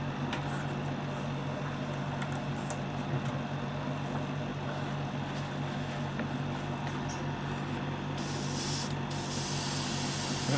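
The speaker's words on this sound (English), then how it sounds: "And yeah, let's spray her up." A continuous hissing spray of paint onto a 1/6 scale Wonder Woman figure runs steadily, close up, with a slight change in tone near the end and no talking.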